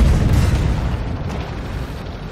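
Heavy tank gunfire in a Leopard 2AX battle game, a dense low rumbling boom that rolls on loud and sustained, slowly fading across the moment with no voices over it.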